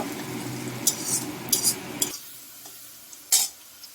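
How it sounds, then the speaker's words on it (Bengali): Chopped onions frying in a pan for a Bengali rohu fish and potato curry, a steady sizzle at first with a few scraping stirs of a spoon, then quieter scrapes after the sizzle fades. "পেঁয়াজটা একটু লাল লাল করে ভেজে নেব।"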